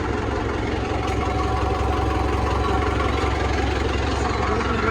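A tractor engine idles and runs steadily in Punjab, a continuous close, even low rumble with faint mechanical vibration that holds unchanged throughout.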